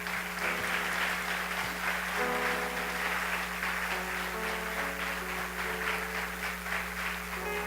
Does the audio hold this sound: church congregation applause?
yes